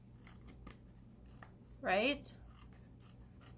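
Scissors snip along the edge of a paper tunnel card in one short, close cut burst, with a person speaking briefly around it.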